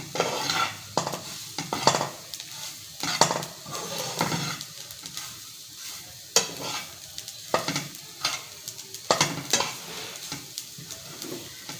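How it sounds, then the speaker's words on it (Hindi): Spices and dry ginger powder are roasted in a pan for pinwheel samosa filling, with a spoon scraping and stirring in repeated sharp strokes over a soft sizzle, close up and without talk. "यहाँ पर ये सौंठ का पाउडर भी मैं डाल दूंगी। थोड़ा सा मैं इनको भून लूंगी।"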